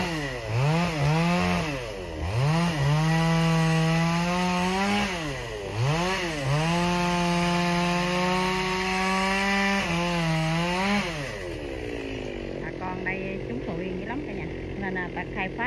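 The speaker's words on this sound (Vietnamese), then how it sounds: "Bên dưới anh Sang cũng đã buộc cái máy cưa lên nè." A chainsaw cuts trees on a riverbank, its engine revving and dropping in repeated strokes as it bites into the wood, loud and near, before idling down toward the end.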